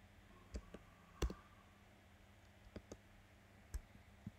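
Sparse, faint keyboard clicks and key taps at irregular intervals as commands are typed during a Minecraft survival game, with a couple of louder clacks near the start and middle, and no voice heard.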